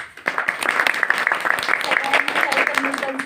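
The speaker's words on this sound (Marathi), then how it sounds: "टाळ्या वाजवून कौतुक केलेलं आहे" A small audience claps at an interview about beauty parlour training, a dense patter of applause running throughout while voices speak over it.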